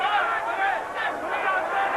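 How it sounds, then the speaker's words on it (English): Boxing crowd in the final round of Corrie Sanders vs Ross Puritty, a steady roar of cheering and shouting that fills the arena without a break, with voices blended into the noise. "And as you can hear, the crowd are solidly behind him."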